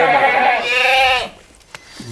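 A goat bleats loudly nearby, one long wavering cry, followed by a brief quiet with a faint thump.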